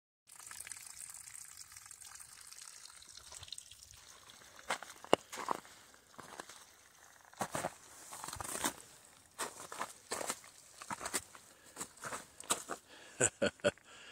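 Spring water trickles and splashes in uneven gushes along a mountain trail in the Smokies, faint at first and then louder, mixed with scattered footsteps and rustling nearby.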